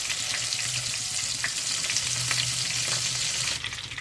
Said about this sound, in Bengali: একটা সাইড বেশ কিছুটা ভাজা হয়ে গেছে, এবার উল্টে দিচ্ছি অন্য সাইডটা ভেজে নেওয়ার জন্য।